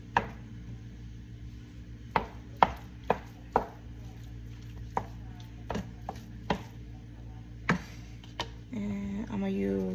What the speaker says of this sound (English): Just gonna chop it up real quick.